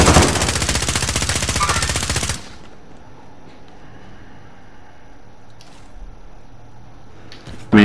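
Sustained automatic gunfire in Call of Duty Warzone: a dense, loud, rapid burst for a couple of seconds, a quieter stretch of low background noise, then another short burst at the end.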